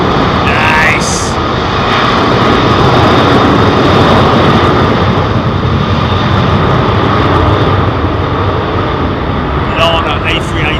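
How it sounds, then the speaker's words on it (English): Airbus A380 taking off at London Heathrow Airport, a loud, close, continuous jet engine roar filling the whole stretch, with faint voices over it. "Lana A380 is an amazing plane, isn't it?"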